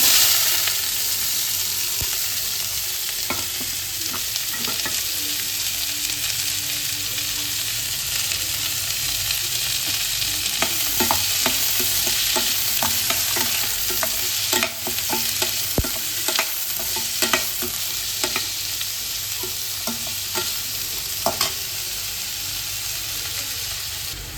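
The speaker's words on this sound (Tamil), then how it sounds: "இது தேவையான கடுகு போட்டுக்கலாம். இப்போ நம்ம அரிஞ்சு வச்சு வெங்காயம் போட்டுக்குவாங்க." Mustard seeds and chopped onion frying in hot oil in a pan: a dense, steady sizzle and hiss with scattered small pops and crackles and occasional stirring scrapes, heard up close and fairly loud, without speech.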